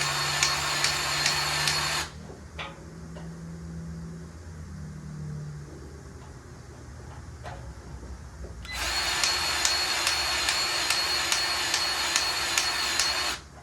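Grease gun pumping grease into a pivot pin on an old Hydra Mac skid steer, two loud, steady whirring motor bursts separated by a quieter stretch of faint clunks.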